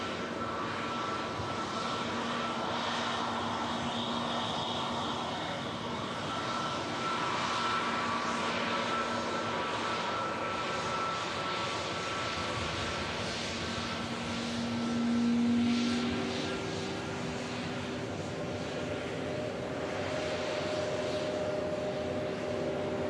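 An Airbus A330neo jet on the runway at Manchester Airport gives a continuous distant engine roar with a broad rushing hiss, holding steady and swelling slightly near the middle, with no voices.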